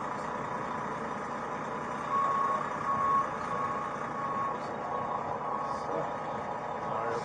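Steady reversing beeps from a tow truck repeat at an even pace over a low idling engine at a roadside stop, with occasional voices in the background.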